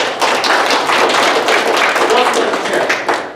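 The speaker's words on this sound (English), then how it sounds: "Please give him a big round of applause." A live seminar audience on wealth and business applauds steadily, dense overlapping claps filling the room at an even, loud level from start to finish.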